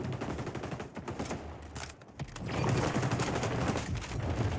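Automatic gunfire sprays in the XDefiant shooter game, bursts of rapid rattling shots with a pause, then a long continuous stream of fire, loud and close with mechanical clicks.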